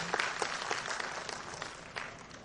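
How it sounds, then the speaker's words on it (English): Audience clapping at a women's event, a fairly quiet but steady patter of many hands with a few sharper individual claps standing out, continuing throughout without speech. "Let's all clap for them."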